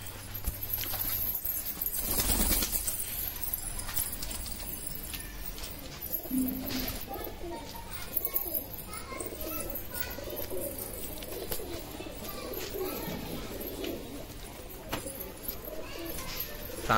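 Pigeons cooing softly in the open air while being flown by a handler, a steady low murmur of coos with faint rustles and scattered background noise throughout.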